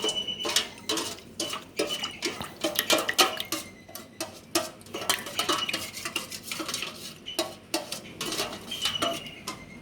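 A spoon stirs flour dough in a bowl for a chicken roll recipe, giving a steady run of close scraping clinks and knocks against the bowl with no voices.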